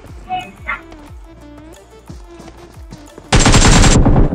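A burst of rapid gunfire from a weak gun in the BGMI battle game, loud and dense for about a second, following quieter game sounds.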